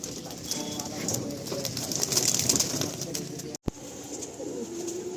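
Pigeons being sold in Baruipur coo continuously amid a busy, rustling background, with scattered clicks and flutters suggesting wings, and a brief dropout near the end.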